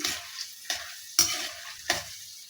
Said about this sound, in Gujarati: હવે એમાં આપણે અડધો કપ દાળિયાની દાળ લઈશું એને પણ સાંતળી લઈએ